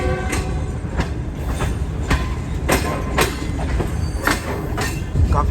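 A train rolls into Larkana railway station in Pakistan, wheels clacking in a steady rhythm over the rails with sharp metallic clicks and faint squeals, loud and close throughout.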